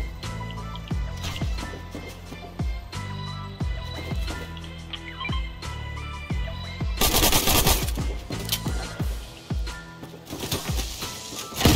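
Fortnite gunfire, rapid bursts of shots, then a louder dense stretch of automatic fire toward the end, close and punchy with no talk.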